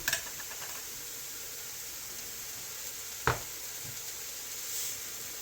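Seasoned meat sears in a hot pan with a steady, fairly quiet sizzle throughout, broken by one sharp knock of a utensil partway through.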